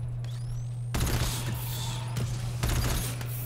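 Cannon fire in the co-op horror shooter GTFO: loud booming blasts break in after a quiet start, with a second burst later, over a steady low hum and other game noise.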